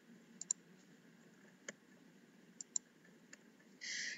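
Several soft computer mouse clicks at a desk, opening a file in Word 2019: a few single and paired clicks spaced out, quiet and close, with faint room hiss and no talking.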